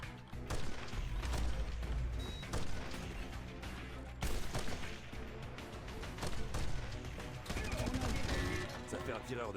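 Sniper rifle fire and loud impacts from the video game Red Faction. Dense, busy bursts of gunfire and crashes sound under a voice talking, with the loudest shots landing near the start and midway.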